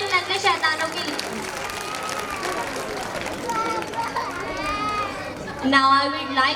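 Applause at an Independence Day celebration for a group of children: a brief burst of clapping at the start and again near the end, amid crowd chatter and children's voices.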